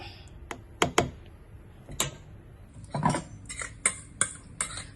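A metal spoon scrapes and clinks against a bowl while mashing homemade baby food for a 6-8 month old, a string of sharp, close, irregular taps and scrapes.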